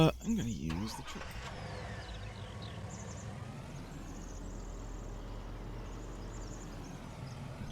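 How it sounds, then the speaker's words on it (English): A truck engine in Farming Simulator 19 turns over at the start and settles into a steady, continuous low rumble that runs through to the end. "I'm gonna use the truck."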